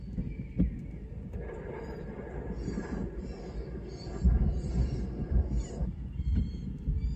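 During a lightning storm in Prince George, Virginia, a bird gives repeated short, high chirping calls in clusters over a low, rumbling storm background that grows heavier partway through.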